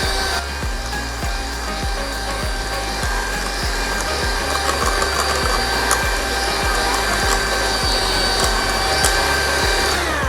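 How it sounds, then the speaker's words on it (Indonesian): An electric mixer whips black forest cake batter with a steady motor whine and a rhythmic scraping thump of the beaters against the bowl, close and continuous without talking. "terus kita mixer ya sampai kental berjejak"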